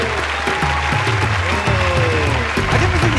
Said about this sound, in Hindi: इस टीम के दो कैप्टन्स हैं, टीम गिलगित बल्तिस्तान से आपकी भरपूर तालियों में बड़े प्यारे जाकिर मस्ताना साहब और आमिर रैम